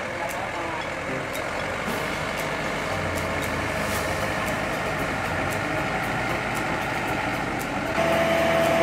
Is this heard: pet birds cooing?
no